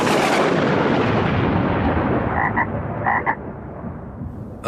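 A frog croaking sound effect in a comedy radio sketch, a few short, raspy croaks in quick bursts following a loud, booming, fading rumble, with no talking.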